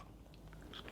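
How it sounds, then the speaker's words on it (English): A crunchy chip dipped in vegan cheese queso is bitten and chewed, giving a soft, close, quiet crunch that peaks briefly near the end, with no talking. "has that salty crunch from the chips"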